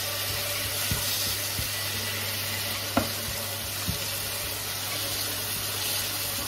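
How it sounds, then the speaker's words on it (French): Celery and pepper with spices fry in a pan for a sardine sauce, a steady close sizzle with a few soft knocks of a utensil as the mixture is stirred now and then. "Je vais les laisser frire au moins une minute en remuant de temps en temps."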